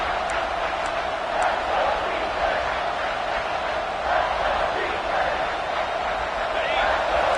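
A stadium crowd in a football video game roars steadily in a loud, continuous wash of cheering as the defense holds in the red zone, with no let-up across the stretch.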